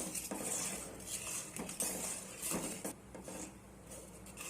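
A utensil clinks and scrapes against a bowl while ripe mango pulp is mixed with salt for homemade aamsotto, a soft continuous stirring with light metallic taps and no voices.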